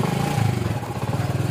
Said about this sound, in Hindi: स्टार्ट करता हूं बाइक को और चलते हैं अब हम